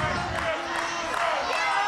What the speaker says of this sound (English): Listen to this crowd get into this.